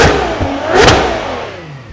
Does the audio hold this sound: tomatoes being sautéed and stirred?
no